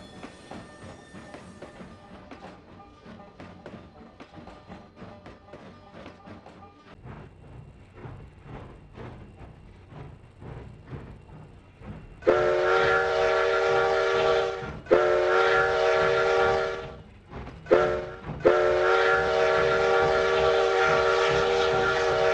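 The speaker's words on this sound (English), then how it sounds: "Our train is now crossing Lobato Trestle" Simulated Denver & Rio Grande Western narrow-gauge steam train in Trainz 2009 crossing a trestle, rhythmic chuffing and clanking giving way to several long, loud whistle blasts with short gaps between them; no talking.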